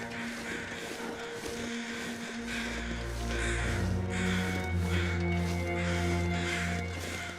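Crows in The Long Dark, a wilderness survival game, caw repeatedly while flocking over a dead body in the woods. Several harsh calls come in an irregular series over a steady low rumble.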